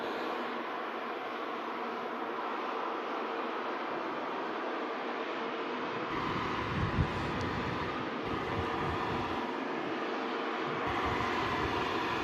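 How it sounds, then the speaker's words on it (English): A Qatar Airways Airbus A380 arriving at Manchester Airport after a flight from Doha, heard as a steady broad jet roar that deepens into a low rumble partway through, continuous and fairly distant with no talking. "This Qatar A380 1000 arriving after 6 hours 29 minutes in the air from Doha."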